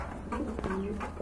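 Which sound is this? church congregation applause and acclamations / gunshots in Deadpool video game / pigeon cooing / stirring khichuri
pigeon cooing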